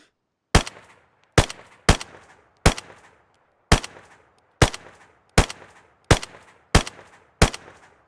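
A fast-firing automatic gun from the DayZ Expansion Mod, ten sharp, loud gunshots in an uneven rhythm roughly every second, each with a short decaying echo and no talk.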